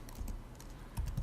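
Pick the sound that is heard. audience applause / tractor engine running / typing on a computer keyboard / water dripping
typing on a computer keyboard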